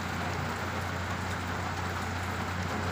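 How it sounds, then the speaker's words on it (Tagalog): Heavy rain falls steadily on a rainy day in Mandaue City, Cebu, making a dense, continuous hiss with a low steady hum beneath it and no talking. "Mabigat na yung kargang ulan."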